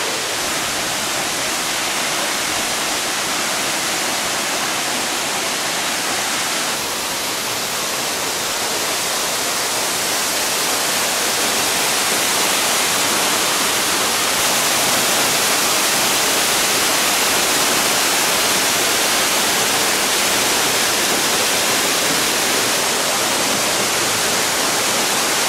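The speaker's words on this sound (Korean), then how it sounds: "상당히 많은 양의 폭포수가 내려오는 걸 볼 수 있죠." A large waterfall near Pakse, Laos, sending down a heavy volume of water, a loud, unbroken broadband roar that holds steady throughout with no voices.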